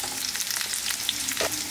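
Stuffed bell peppers frying in a pan, a steady close sizzle with small crackles and spatters, no talking.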